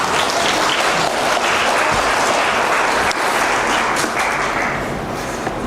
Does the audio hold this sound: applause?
yes